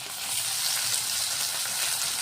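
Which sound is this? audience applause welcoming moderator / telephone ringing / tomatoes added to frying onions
tomatoes added to frying onions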